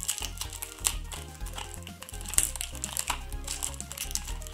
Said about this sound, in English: let's, you know, do a bit of an unwrapping on this.